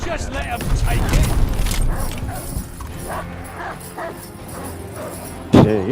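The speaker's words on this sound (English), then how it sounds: "Hostile dogs in the zone." Hostile dogs barking in the Call of Duty: Vanguard video game, several yips and barks mixed with gameplay sounds and speech, ending with a sharp loud burst near the close.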